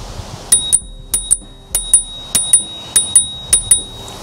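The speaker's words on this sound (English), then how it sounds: "This is how the bell sounds." Bell on the handlebar of a Gotrax G4 electric scooter, rung in a quick series of about a dozen sharp, close metallic dings in pairs, each ring decaying briefly, with no talking.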